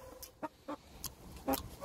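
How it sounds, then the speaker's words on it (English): Pet chickens clucking at home while sharing lunch, one perched on a kitchen counter: a series of short, soft clucks spaced irregularly, close but quiet against low background noise. "Sharing my dinner or lunch with my chickens."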